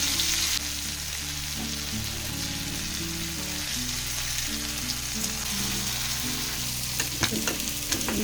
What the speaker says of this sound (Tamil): தவா நல்லா சூடாயிடுச்சு. நம்ம மசாலா போட்டு வச்சு இந்த ஃபிஷ்ஷை போட்டுடலாம்.